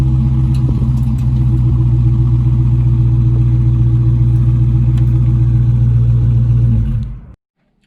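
A 2019 Dodge Charger R/T with a mid-muffler delete idles loud and close after a cold start, a deep steady V8 rumble with slight clatter that holds evenly for about seven seconds before cutting off abruptly.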